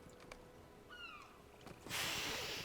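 A cat in a video game, at a Midsummer Festival in Furtherholm, gives a single short, faint meow over quiet game ambience. A sudden burst of broad hissing noise follows.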